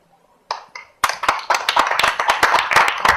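Audience applause at a talk. It starts with a few scattered claps, then quickly swells into loud, fairly close clapping from a modest crowd.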